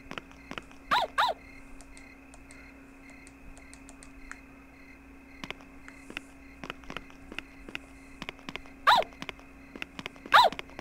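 A dog barks in short bursts in the PS4 horror game Yomawari: Midnight Shadows, set against a steady hum and quiet game ambience, with no voices.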